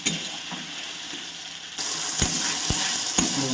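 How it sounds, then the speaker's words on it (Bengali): Paste of ginger, cumin, green chilli and tomato frying in a pan for a mixed-vegetable labra, a steady soft sizzle that grows louder partway through, broken by a few sharp scraping stirs near the end. "মশলাটাকে ভালো করে কষিয়ে নিতে হবে।"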